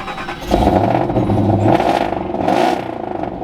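A Jeep Gladiator engine turns over and settles into a loud, steady idle with a rough clattering rumble, close by, with no talking.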